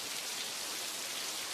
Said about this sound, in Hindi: इस साल बारिश कुछ ज्यादा ही हो रही थी।